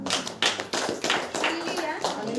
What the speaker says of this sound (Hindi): ताली बजाकर परमेश्वर को धन्यवाद देते